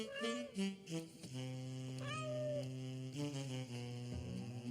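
Cartoon children's voices imitate cat meows, a few drawn-out, wavering mews in a row, alone and fairly close.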